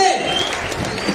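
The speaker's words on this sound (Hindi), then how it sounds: "एक बार जोरदार तालियों के साथ स्वागत करेंगे" Audience clapping at a Holi Milan gathering rings out as a dense, steady burst of applause close by, with a voice talking over it.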